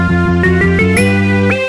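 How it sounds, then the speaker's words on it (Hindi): A sustained ringing bell tone with layered harmonics, struck again at intervals and left to ring out, loud and up close. "बेल बज गई हमारी"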